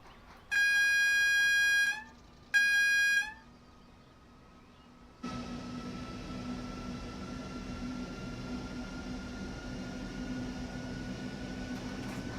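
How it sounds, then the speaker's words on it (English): Locomotive in Train Sim World 5 on the Mittenwaldbahn: two loud two-tone horn blasts, then a steady engine drone with a rising whine sets in and holds as the loco pulls away. "we can accelerate like a proper loco as well"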